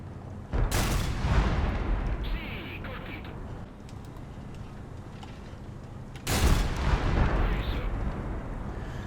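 A tank cannon in the War Thunder video game fires twice, each shot a loud, close booming blast with a rumbling tail, the two blasts roughly six seconds apart.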